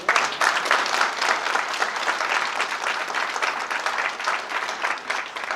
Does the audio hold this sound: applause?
yes